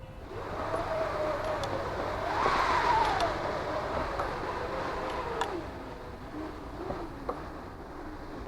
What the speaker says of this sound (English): And I'll give you the wind machine.